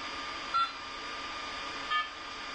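Creality CR-10S Pro V2 3D printer giving two short electronic beeps, spaced about a second and a half apart over a steady background hum, nearby and fairly clear.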